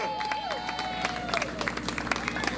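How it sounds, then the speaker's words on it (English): Scattered clapping from a rally crowd greets Congressman James Clyburn at a National Action Network event, fairly faint and uneven, with a sustained tone and background murmur underneath. "Give him a hand clap of praise as he comes."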